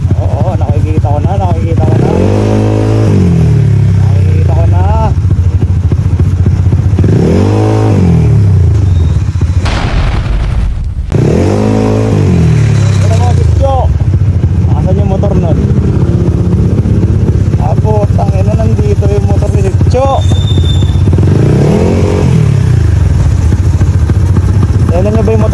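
A motorcycle engine revs up and down repeatedly in loud, rising and falling surges, with a brief cut partway through and chatter in between.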